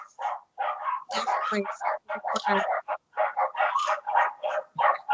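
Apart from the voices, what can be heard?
dogs barking in background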